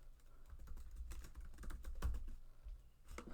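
Quick bursts of keystrokes on a computer keyboard, close and fairly quiet, with an irregular clatter of several presses and short pauses between them.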